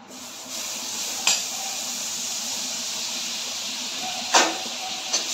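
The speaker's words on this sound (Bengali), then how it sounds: "কড়াইতে আমি এখন মাখনটা ছেড়ে দেবো।" Butter melting in a kadai gives a steady, even sizzling hiss throughout, with two or three brief metallic clinks from the pan, no voices.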